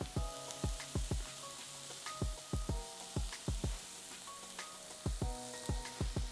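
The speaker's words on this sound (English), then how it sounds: "We're gonna saute our onion until we see it starts to get translucent and gets a nice golden brown color." Onion with salt and pepper sizzles softly in a pan for keto burgers, a faint steady hiss broken by regular light taps and clicks, with no voices.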